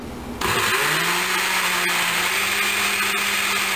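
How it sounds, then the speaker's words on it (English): A blender on its smoothie setting whirs to life after a short pause, blending banana and papaya with a steady, loud motor drone and churning hiss, close by and without talk. "Alright, I got banana and papaya in my blender. It's on the smoothie setting, and here we go."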